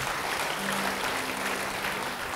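A church congregation claps during a sermon, producing steady, dense applause that fills the room at an even level throughout, with no voices clearly standing out.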